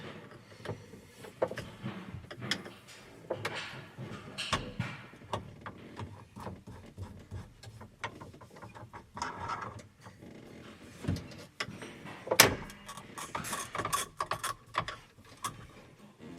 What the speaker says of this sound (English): So you are just prying the emblem off, the gripped part on the wheel stays there